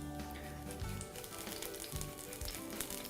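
Grated ginger and garlic sizzle in hot oil in a pan, a steady dense crackle and spit that fills the whole clip, with no talking.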